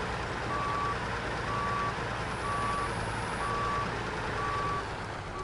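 A truck's reversing alarm in the off-road driving game SnowRunner beeps steadily at an even, repeating rhythm while a trailer is backed up, sitting over a constant low engine drone with no talking.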